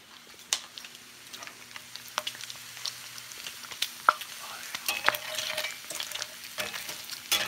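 Bacon frying in a cast iron Dutch oven, soft crackling sizzle with scattered sharp pops and occasional scrapes, moderately quiet and close.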